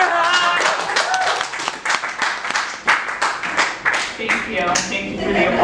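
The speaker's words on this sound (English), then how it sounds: "Thank you for the applause." An audience at a stand-up comedy show claps and applauds steadily throughout, a dense patter of many hands with some louder individual claps and a few voices under it.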